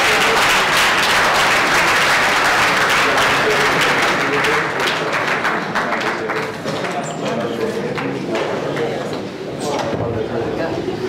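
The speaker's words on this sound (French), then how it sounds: "Sous vos applaudissements, s'il vous plaît" Dense, steady applause from an audience greeting speaker Ibrahima Baldé at a public speaking event, loud and sustained for the whole stretch, thinning slightly toward the end, with voices faintly underneath.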